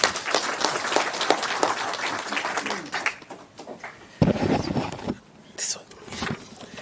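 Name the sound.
round of applause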